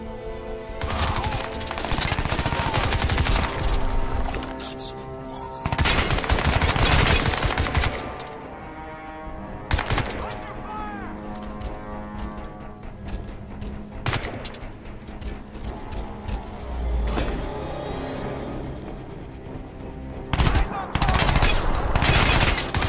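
Rapid automatic gunfire and single shots in the PC shooter Crysis 2, loud, close bursts separated by short lulls, with faint voice at times.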